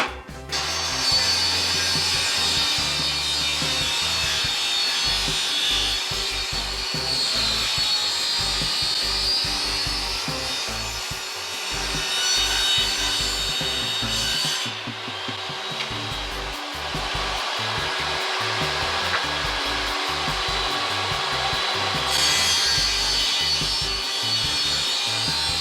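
A power saw cuts continuously while mounting hardware for a sun shade sail on stucco siding, a loud sustained whining rasp with two brief dips in pitch and intensity.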